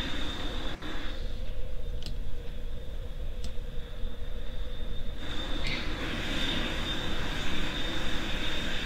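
Steady jet engine whine and rumble from an airliner taxiing to the gate in a flight simulator game, with a thin high tone and a few faint clicks, continuous and moderately loud.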